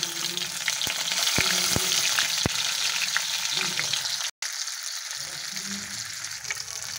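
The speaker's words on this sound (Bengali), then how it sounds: "প্রথমে কড়াইয়ে তেল দিয়ে দিচ্ছি এবং মাছটা ভেজে নেব।" Fish frying in hot oil in a wok, a loud continuous sizzle close up, with a few sharp clicks early on and a brief gap before the hiss resumes slightly softer.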